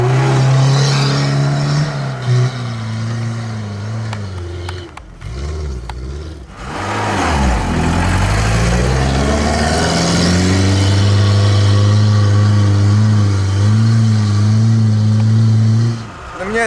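A 1996 Lada Niva engine drones steadily under load uphill in second gear, its pitch dropping as it shifts, then climbing and holding a strong, sustained labored hum.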